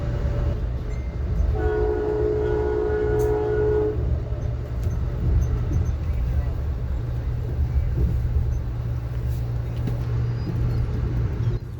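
A passenger train on the New England route rumbles over a century-old bridge across the Connecticut River, a steady low roar throughout, with a horn-like tone sounding for a couple of seconds near the start.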